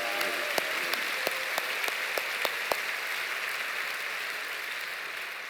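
A church congregation claps together at a Friday night worship service, a dense, even roar of applause with occasional louder nearby claps early on, continuing steadily with no talking.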